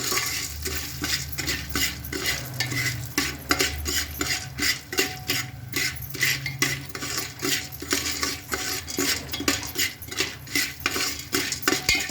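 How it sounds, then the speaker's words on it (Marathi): Raw corn kernels with salt being stirred in a pan for homemade popcorn, a continuous close rattle and clatter of kernels and metal utensil against the pan, with rhythmic scraping strokes throughout. "चवीसर प्रमाण आपल्या 1 चमचा मीठ टाकायचा आणि परतायचं त्याला."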